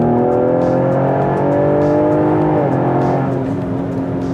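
Engine of a 2020 Ford Explorer ST with full bolt-on modifications revving in sport mode through its 10-speed transmission, a loud, steady drone held at high revs that drops in pitch near the end, with no talking.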